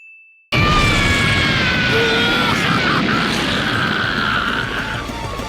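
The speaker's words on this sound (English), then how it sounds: "they ended up smashing right through the wall and into the control room for level 1" Anime characters in One Piece crash through a wall: a short tone, then a sudden loud impact followed by sustained crashing, ringing noise and rumble that slowly fades.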